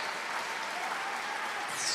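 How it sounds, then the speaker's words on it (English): Steady crowd applause, dense and continuous, with a faint whistle rising near the end. "come give the man his applause"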